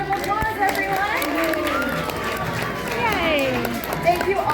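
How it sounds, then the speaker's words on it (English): Audience clapping and cheering at a children's Passover story time with Grover at Sesame Place, a steady crowd wash lasting throughout, with voices and chatter mixed in. "Give yourselves a big round of applause, everyone."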